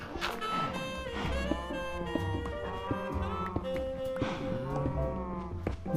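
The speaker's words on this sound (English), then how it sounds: "Sorry about the uproarious cows in the background." Several cows moo loudly and repeatedly close by, their drawn-out calls overlapping one another above a steady layer of background music.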